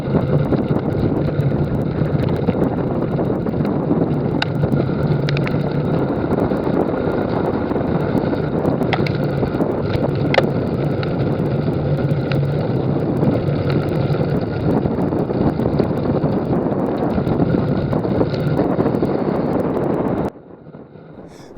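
Constant heavy wind roar buffets the microphone during a headwind section of a road bike race at Fort Ord, a dense, unbroken rumble that drops off abruptly near the end.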